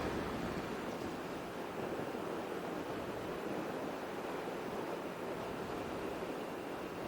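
Wind roars steadily across the microphone while riding a 2021 Kawasaki Z400 motorcycle, a constant loud broadband rush with no pauses and no talking.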